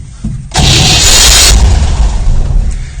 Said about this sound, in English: Getting starter motor issues now as well, just to add to the mix.